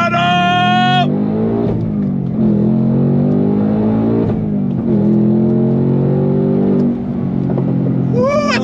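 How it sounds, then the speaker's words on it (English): A 2024 Ford Mustang Dark Horse engine pulls hard and loud under full throttle, its rising drone broken by quick shifts, while a person talks over it briefly at the start and end. "love the pops. I love the bangs."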